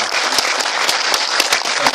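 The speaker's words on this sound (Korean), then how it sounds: "뜨거운 박수로 맞이하겠습니다" An audience at a commemorative prayer gathering in a national assembly hall welcomes pastors from Japan with loud, close, continuous applause, with individual claps popping out of the steady wash.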